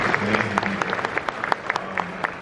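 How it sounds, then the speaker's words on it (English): Convention panel audience at a horror and monster event giving a round of applause, continuous clapping with scattered louder individual claps and a faint tonal hum beneath. "big round of applause for them because they're fantastic"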